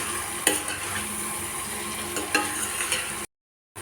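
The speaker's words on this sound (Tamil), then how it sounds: "நல்லா பச்சை வாசம் போக நல்லா வதக்கி எடுத்துக்கலாம்." Brinjal and masala being sautéed in a pan, a soft steady sizzle with a couple of louder stirring scrapes, close by, cutting off abruptly into silence near the end.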